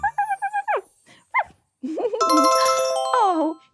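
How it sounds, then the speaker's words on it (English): A bright ding-dong chime of a school bell rings out with sustained tones near the end, following a short stretch of barking and whimpering from a cartoon dog. "That's the school bell, which tells us it's time to go home for today."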